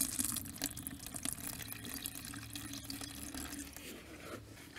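Primer liquid is poured from its container into a smaller vessel, giving a soft, continuous trickling and splashing that stays close and faint for a few seconds with no voices.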